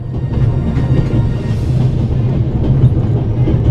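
A train rolls along its tracks in the video game The Raven: Legacy of a Master Thief, giving a steady loud low rumble with faint rhythmic clatter that never lets up.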